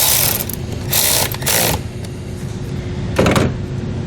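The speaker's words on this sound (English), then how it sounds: "Then we can retighten the nut." A nut being retightened on a trailer wiring harness mount on a 2019 vehicle, with close mechanical ratcheting and clicking in short bursts separated by quieter gaps, no talking.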